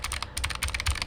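Rapid typing on a Razer Huntsman Mini keyboard with clicky contactless switches, a fast uneven run of crisp close clicks and keystrokes with no talk.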